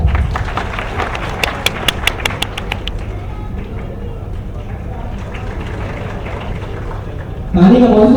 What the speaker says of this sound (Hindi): अपने लिए तालियां